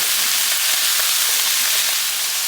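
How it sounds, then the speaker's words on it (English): Minced garlic sautés in a pan alongside zucchini and squash for a vegetable lasagna, giving a steady, even, close sizzling hiss that continues without a break and with no talking over it. "So add the garlic in to saute for the remaining time."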